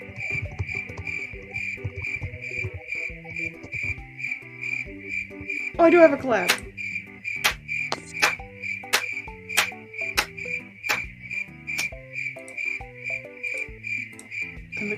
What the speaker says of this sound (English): And the crickets shut up.